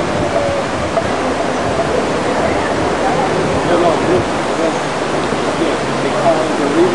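River water flowing steadily near Berea, Greece, a broad continuous rushing hiss with no breaks, fairly loud and close.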